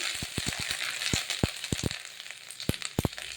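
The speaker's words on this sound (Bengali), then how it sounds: "আদা বাটাটা তেলে নেড়ে নিতে হবে।" Ginger paste fries in hot oil in a pan, a soft steady sizzle under a series of sharp irregular pops and clicks as it is stirred, with no talking.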